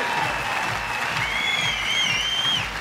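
Spectators clap steadily at a beach volleyball semifinal at the Québec Open, a sustained wash of crowd applause with a few high whistle-like tones rising over it near the end.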